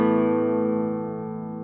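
A single strummed chord on a 1978 Jose Luis Romanillos La Neva classical guitar rings out with long, even sustain, close and clear, decaying slowly without any one note standing out.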